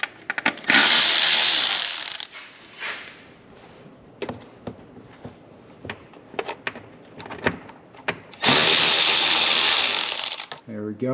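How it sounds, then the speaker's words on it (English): Ratchet tool loosening 7mm worm-drive hose clamps on the air intake pipes of a Ford second-generation EcoBoost engine, heard as close bursts of quick clicking with scattered metallic taps and louder hissing rushes at the start and near the end. "those are held on with these worm clamps, and these are 7mm. Just loosen these things up"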